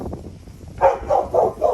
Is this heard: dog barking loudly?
yes